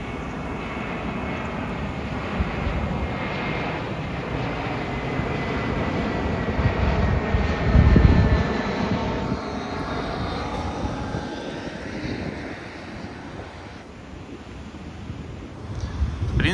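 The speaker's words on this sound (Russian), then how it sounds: "Смотрите, два самолета." Two airplanes fly overhead near the Adler seafront in Sochi, their engines a steady broad roar that swells to a peak midway and then slowly fades, with light wind noise on the microphone.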